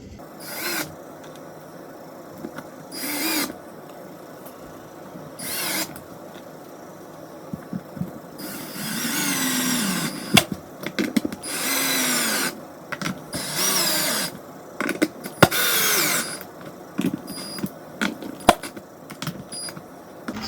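A power drill drives screws into a corner cupboard in several separate loud whirring bursts of a few seconds each, with quiet handling between them and no talk.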